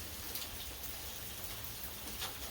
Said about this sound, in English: This rain reminds me of that psalm